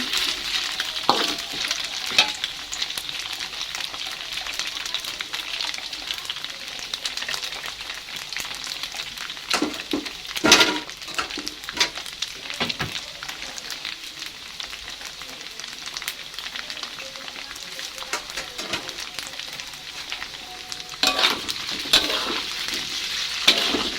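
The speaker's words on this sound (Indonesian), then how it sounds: "Langsung aja kita goreng semuanya teman-teman." Chicken meatballs sizzle and crackle steadily in hot oil, with scattered pops and occasional stirring scrapes, close and fairly quiet, no voices.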